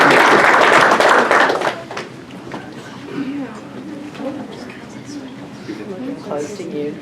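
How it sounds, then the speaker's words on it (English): Short burst of applause for a junior high volleyball team at a school board meeting, fading after a couple of seconds into talking and room noise. "Let's give them a round of applause."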